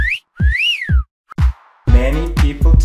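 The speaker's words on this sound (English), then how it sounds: "I can whistle too." A person whistles a short tune alone, with rising and falling pitch glides, followed by a bright run of quick notes that sounds fairly close and clear.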